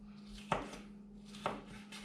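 Two crisp knife chops on a cutting board while trimming yellow peppers, about a second apart, close and quiet over a steady low hum.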